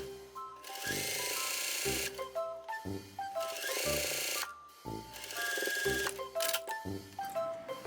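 A sewing machine stitches down the facing on a cafe apron in several bursts of fast whirring needle clatter separated by short pauses, close and fairly loud with no talking.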